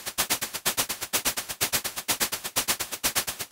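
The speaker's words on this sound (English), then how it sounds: "as you can hear already, we get this shakery sound" A rapid, bright shaker loop with crisp, hissy rhythmic pulses repeating evenly, sounding artificially high-pitched and mechanical, with no voices.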